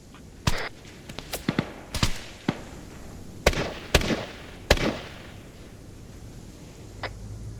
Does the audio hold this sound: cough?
no